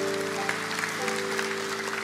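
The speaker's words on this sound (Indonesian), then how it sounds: "Kita tepuk tangan untuk Tuhan, gak apa-apa." A church congregation claps during a sermon, a dense, steady wash of applause over a faint sustained musical hum, with no voices above it.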